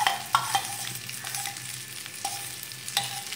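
Rice and lentils stirred in hot oil in a kadai for vegetable khichuri, a steady sizzle broken by repeated scraping strokes of the spoon, close and moderately loud with no talking.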